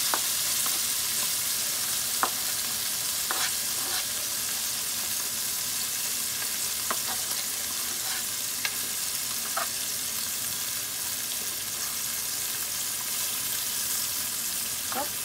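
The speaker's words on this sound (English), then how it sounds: "The fragrance of onion when it's frying is so delicious." Steady sizzling of chopped onions frying in a pan, with occasional scraping clicks from stirring, continuous and fairly close.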